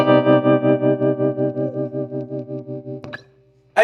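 A sustained electric guitar chord played through a Swart AST Pro amplifier, pulsing with steady tremolo as it slowly fades, then choked off by a short scrape and a burst of noise.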